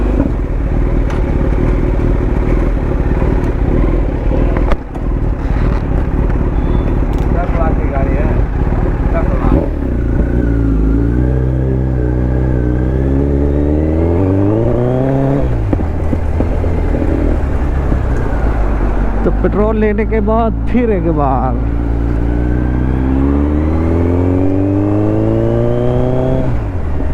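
Kawasaki Z900 superbike engine running loud and close, with revs rising and falling in several sweeps over a steady deep rumble, under someone talking throughout.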